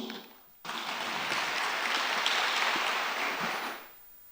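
An audience at a GP Ansor organisation gathering applauds the regent with a dense, even wash of clapping that starts abruptly, holds for about three seconds, then tapers away.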